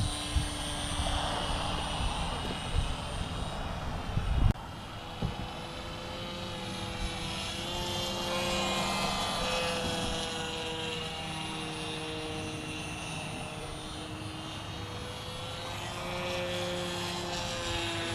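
A Harbor Freight P-51 RC model airplane engine drones steadily in flight, a sustained propeller hum with shifting pitch as it passes, fairly loud and continuous with no talk over it.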